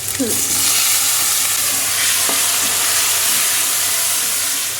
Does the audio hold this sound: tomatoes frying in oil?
yes